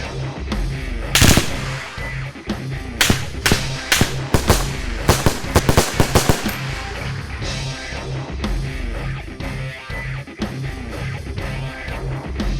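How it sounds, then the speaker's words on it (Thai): Machine gun fire at an ASEAN military shooting competition on an outdoor range: loud sharp bursts and rapid strings of shots crack one after another, with echoing reports between volleys. "และปืนกล"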